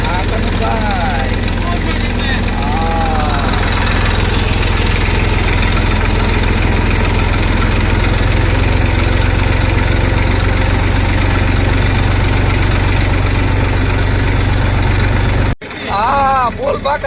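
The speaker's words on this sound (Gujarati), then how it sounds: "લઈ આવ્યા નવું ટ્રેક્ટર" A new tractor's engine idles on a farm, a steady low rumble running throughout, with people talking over it and a brief break near the end.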